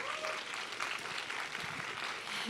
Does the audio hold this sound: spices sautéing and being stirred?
no